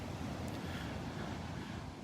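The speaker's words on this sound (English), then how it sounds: "Got some waves breaking out there." Ocean waves break off the beach at Delnor-Wiggins Pass State Park in North Naples, Florida, a steady wash of surf mixed with gusts of wind buffeting the microphone.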